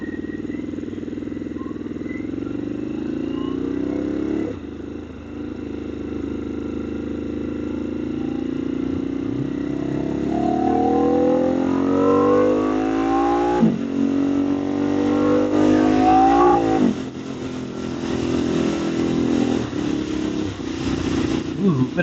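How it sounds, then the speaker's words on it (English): A Harley-Davidson motorcycle engine rumbling steadily while riding, climbing and dropping in pitch through gear changes with wind noise, loud and continuous. "I've had this bike for about a year, and sometimes these Harleys are just a little temperamental."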